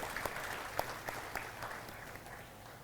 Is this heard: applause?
yes